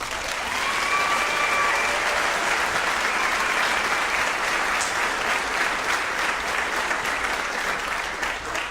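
Sustained audience applause at a school orchestra spring concert, a dense steady clapping that fills the whole stretch without pause, loud and close.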